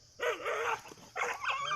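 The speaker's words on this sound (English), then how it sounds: "and starts barking at it as if that's supposed to do something." A roaming dog confronts a tiger and lets out two bursts of sharp, whiny barks and yips, each lasting about half a second, loud and fairly close, with a low background rumble.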